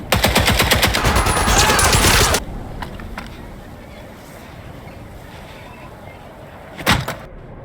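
Rapid automatic gunfire in an Indiana Jones video game rattles loud and fast for about two seconds, then cuts off. Faint clatter follows, and one more loud shot lands near the end.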